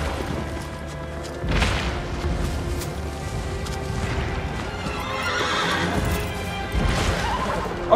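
Horse in the video game Shadow of the Colossus neighing and whinnying over steady clip-clopping hooves, with a couple of louder bursts of whinny cutting through the continuous game soundscape.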